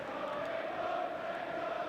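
Full-house football crowd at the iPro Stadium for a Championship match between Derby County and Sheffield Wednesday, a steady, dense roar of massed voices holding at an even level throughout, with no single voice standing out.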